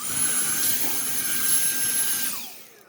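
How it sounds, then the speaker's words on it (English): A handheld vacuum cleaner runs with a loud, steady high-pitched whine and rushing airflow up close, then switches off and spins down near the end; no speech. "I'm going to get out the handy dandy vacuum cleaner and literally"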